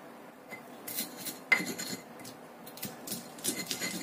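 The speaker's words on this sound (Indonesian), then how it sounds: "Kita ulek dulu sampai halus semua bahannya" A stone mortar and pestle (ulekan) grinds ingredients for crackers, with close scraping and knocking strokes that repeat irregularly and include one sharper clack.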